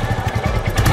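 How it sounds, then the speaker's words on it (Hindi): Royal Enfield Classic 350 2023 motorcycle exhaust thumping steadily nearby, a loud low pulsing beat with no talk over it. "और साइलेंसर की बात करता हूँ तो आवाज़ आप फील कर सकते हैं"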